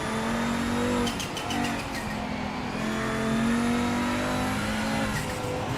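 In the sim racer Project Motor Racing, a Ferrari 296 race car's engine drones continuously and loudly, pitch climbing and dipping through shifts, with faint tire squeal and no talk.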